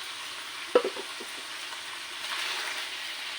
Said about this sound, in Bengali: দেখুন বন্ধুরা, এখন এই পেঁয়াজটা আমি এখন দিয়ে দেবো।